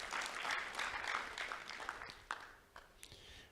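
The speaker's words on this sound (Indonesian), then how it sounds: "Tepuk tangan buat Yesus Kristus" Applause from a church congregation during a sermon, a steady wash of clapping hands that fades and thins toward the end, with a few scattered louder claps.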